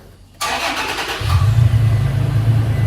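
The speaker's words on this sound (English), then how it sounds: "Okay, so we're gonna start up the truck here." A truck engine starts up: the starter cranks for under a second, then the engine catches and settles into a steady, close idle.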